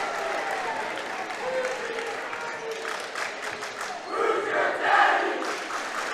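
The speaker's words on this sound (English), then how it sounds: "Little Who's Your Daddy cheer from the student body." Student section of a high school basketball crowd, Loyalsock vs. Montoursville, chanting and cheering in a gym, a steady massed roar of voices that swells louder toward the end.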